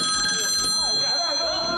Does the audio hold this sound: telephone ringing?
yes